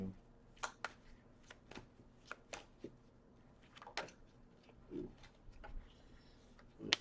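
Tarot cards shuffled in repeated crisp riffles and snaps, close and fairly quiet, scattered in bursts across the stretch with no talking.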